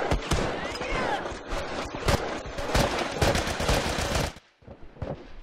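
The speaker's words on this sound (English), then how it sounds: "I'm shooting your ass." Rapid gunfire in The Last of Us during a supply raid in Downtown, loud dense bursts of shots cracking close in fast succession, then a brief pause and a few scattered shots, with faint voices beneath.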